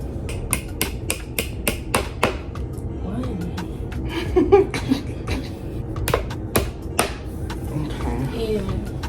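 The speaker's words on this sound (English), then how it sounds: "As if I'm not just hammering right now." Sharp hammer blows strike repeatedly in irregular bursts while assembling a coffee table, close and crisp, with quiet voices murmuring between some of the strikes.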